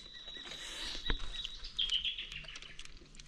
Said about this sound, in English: Already starting to hear the birds.